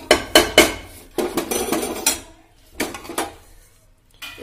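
Gram flour goes into a metal pan while making mawa laddoos, with close, loud clanks and scrapes of utensils against cookware in several sharp bursts and a few quieter knocks.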